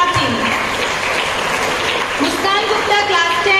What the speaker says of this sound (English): Please keep motivating these children by your clapping.